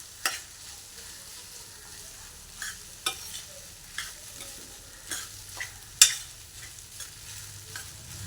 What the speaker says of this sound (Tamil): இப்போ நம்ம வடித்து வச்சுருக்க போகாவை போட்டுக்கலாம். இதை நல்லா கிளறி கொடுத்துடலாம்.